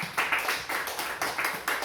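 A church congregation claps in steady rhythmic unison during worship, with sharp bursts of clapping repeating at a quick, even beat and no voices standing out.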